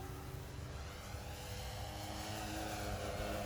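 A Hangar 9 J-3 Cub 10cc electric scale RC model airplane flies at about half throttle, its steady motor and propeller whine droning continuously and fairly faint at a distance, with no voices.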